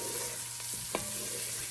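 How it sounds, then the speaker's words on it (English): Celery, carrot and onion frying in oil for vegetarian bolognese sauce, a soft steady sizzle with a couple of brief stirring scrapes, close and quiet. "I'm going to add the celery and carrot and stir it up to coat it all with that onion."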